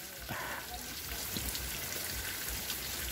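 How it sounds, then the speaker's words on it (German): Steady rain hissing and pattering on a surface near a waterfall in Senaru village, Lombok, a dense wash of droplets with no voices. "wir werden noch nass, wenn wir durch den Regen laufen"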